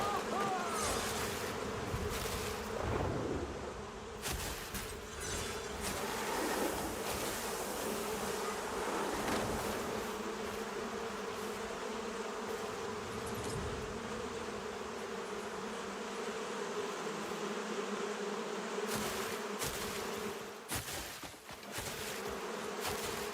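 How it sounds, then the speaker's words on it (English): Bees buzzing in the video game Crimson Desert, a persistent insect drone under game sounds and scattered soft noises, fairly close and steady throughout. "I did a PETA and freed some bees into the wild, even though they were doing just fine."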